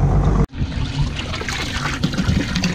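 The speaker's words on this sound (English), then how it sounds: "I got that water flowing again" Water pours and splashes steadily from a backup pump used on a fishing outing, a continuous close gush that starts abruptly after a brief cut and runs without talk.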